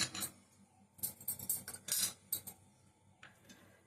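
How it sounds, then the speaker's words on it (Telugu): A spoon mixing a sweet coconut filling in a bowl, with bursts of metallic scraping and clinks against the rim in uneven strokes, close and moderately quiet, no voices. "ఇప్పుడు దీన్ని మనం చక్కగా ఇలాగ మొత్తం కలిసేటట్టు కలిపేసుకుందాం"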